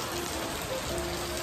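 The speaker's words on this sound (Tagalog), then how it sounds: "Umuulan." Steady rain falls close by, a dense, even hiss of drops on surfaces with no pause and no voices over it.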